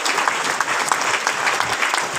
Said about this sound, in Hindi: तालियां जोरदार और लगातार।